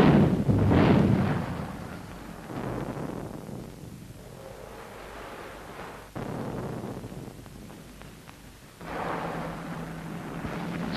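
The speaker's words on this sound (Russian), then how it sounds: "Это бьют их пушки!" Deep, rumbling booms of artillery fire roll in several bursts, with a heavy low-end thud and a sustained distant roar between shots.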